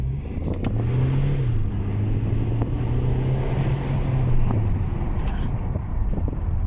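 A 2020 Hyundai Tucson N Sport engine in sport mode revs up and holds a rising, roaring pitch before easing back down, with wind buffeting the microphone throughout.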